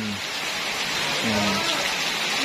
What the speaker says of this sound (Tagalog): kusog man ang ulan